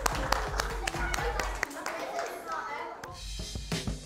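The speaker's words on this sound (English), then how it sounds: "can we give a round of applause, please, for the jam sandwiches?" Children clap in scattered, uneven bursts with sharp individual claps standing out, mixed with kids' chatter and voices throughout.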